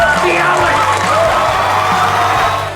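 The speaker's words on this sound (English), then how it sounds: "Ladies and gentlemen, round of applause." Studio audience at a sitcom taping applauding and cheering, a dense continuous wash of clapping and whoops, loud and sustained throughout, with a voice calling out over it.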